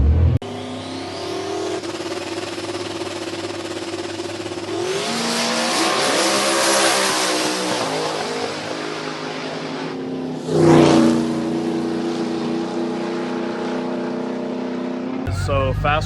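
A drag race car launches and accelerates down the strip, its engine note climbing loudly before a sharp roaring pass, with people talking and an idling engine beforehand.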